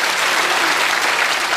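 A television studio audience gives a steady, dense round of applause that fills the room, with no talk over it.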